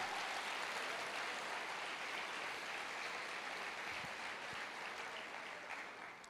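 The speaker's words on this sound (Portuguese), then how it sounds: "Aplauda o Senhor." A church congregation applauds in a long, even wash of clapping, many hands blending into a soft, distant roar that holds steady and eases slightly toward the end.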